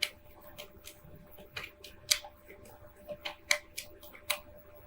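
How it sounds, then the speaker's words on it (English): Tarot cards being shuffled by hand, a series of crisp, close riffling snaps and flicks in an uneven rhythm, quiet between bursts, with no speech. "let me shuffle here with these, call them my clarifying cards"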